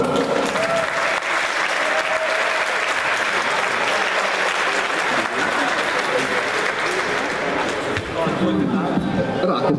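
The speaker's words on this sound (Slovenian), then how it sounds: "tudi aplavz zanj." A crowd applauds continuously and loudly for a team leader at an outdoor event, with dense clapping throughout and voices faintly beneath it.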